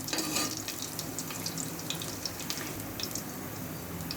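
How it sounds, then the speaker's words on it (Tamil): Cardamom and fennel seeds frying in oil for coconut milk rice, a dense, steady hiss with faint crackles throughout and no pauses. "அது கூடயே சோம்பு சேர்த்துக்குங்க. சேர்த்துட்டு எண்ணெயில் கொஞ்சம் நல்லா மிக்ஸ் பண்ணி விடுங்க."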